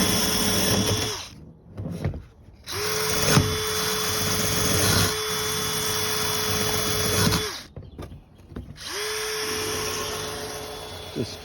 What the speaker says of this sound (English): Just cleaning up the edges of these patches there with the same wire brush again